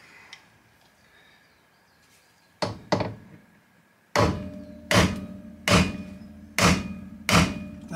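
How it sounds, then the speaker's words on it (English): A hammer knocks at a suspension pivot pin on a Porsche 928 raised on axle stands: a couple of light taps, then a steady run of loud, ringing metallic blows about a second apart, with no talking. "That is definitely a hammer."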